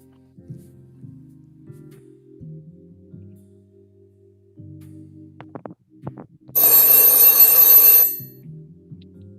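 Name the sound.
telephone ringing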